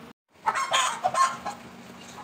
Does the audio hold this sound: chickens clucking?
yes